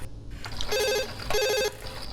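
A telephone rings twice in short trilling bursts, fairly close, over a faint room hum.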